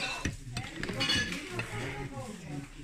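Porcelain plates and a large serving dish clink and knock together in quick irregular bursts as they are handled from boxes at a German flea market, fairly close, with low background murmur.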